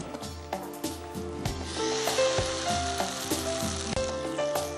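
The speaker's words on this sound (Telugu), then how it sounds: "ఇందులో డిప్ చేసి అందులో వేయాలి. ఫ్రై చేయాలా?" Battered pieces dipped and dropped into hot oil fry with a steady close sizzle and bubbling, joined by occasional clinks of a utensil against the pan, with no voices over it.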